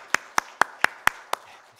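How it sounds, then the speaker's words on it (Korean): Hands clap in a church service, six sharp, distinct claps at a steady, even rhythm over about two seconds, moderately close, with quiet room tone between them. "우리 한번 위로의 박수, 격려의 박수 드리겠습니다."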